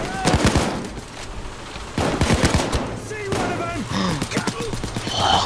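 Pistol fire in Payday 2 comes in rapid bursts of sharp shots, with several clusters separated by brief pauses, while people talk over the shooting.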